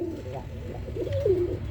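Birmingham Roller pigeons coo nearby in soft, rolling calls that rise and dip, a clear coo near the end over a low background hum.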